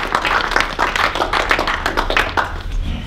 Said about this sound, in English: Let's give him a round of applause to start.